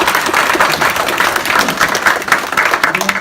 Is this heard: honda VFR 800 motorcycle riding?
no